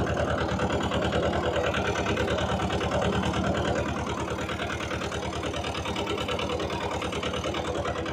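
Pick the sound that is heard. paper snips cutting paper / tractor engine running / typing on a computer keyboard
tractor engine running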